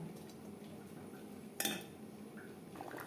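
Rice is spread into an aluminium kadai for layering mutton biryani, giving a quiet kitchen scene with a sharp metallic clink of a utensil against the pan near the middle and soft scraping after it.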